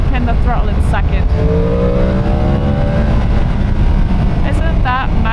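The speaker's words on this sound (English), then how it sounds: "the noise that this bike makes when you pin the throttle in second" Motorbike revving hard with the throttle pinned in second gear, a loud, close engine howl climbing steadily in pitch, with wind rush and a voice briefly at the start.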